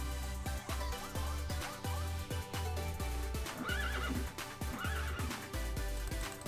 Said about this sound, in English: That ghost horse sounds so cool when he like neighs.